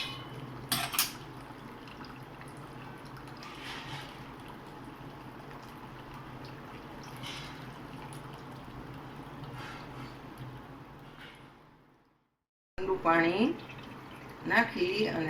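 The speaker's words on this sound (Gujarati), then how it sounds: "સારી રીતે પનીરને આવી રીતે ધોઈ લેવાનું છે" Paneer being rinsed in water in a kitchen, with running and splashing water, clinks of a bowl or utensils, and a short drop to near-silence before the watery clatter returns.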